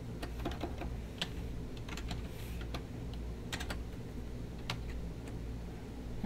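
Keystrokes on a computer keyboard tap out in irregular short bursts, faint and close, over a steady low hum, with no talking.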